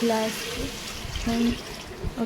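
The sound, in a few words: pouring water into cooking pot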